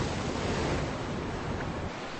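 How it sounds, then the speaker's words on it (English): Heavy surf thrashing and churning near rocky shore off Strawberry Island in rising wind, a dense continuous roar of breaking waves with wind buffeting the microphone, steady and loud throughout. "Saul, all I hear is thrashing waves"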